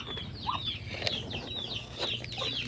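Ducks on a farm quacking and chirping softly in a brief, faint cluster of calls with some rustling, fairly distant and low in level.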